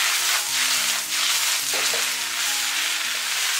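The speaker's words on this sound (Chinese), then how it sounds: "继续开大火给它翻炒均匀。 炒干白菜里面的水分，全程一定要开大火给它煸炒。" Napa cabbage stir-fried in a wok over high heat for vinegar cabbage, giving a steady, loud sizzle and crackle with soft stirring scrapes throughout and no talking.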